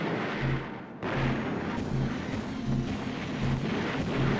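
A super weapon in the Battle Engine game launches missiles, heavy booming blasts and rumbling explosions repeating every second or so under a continuous roar of battle noise.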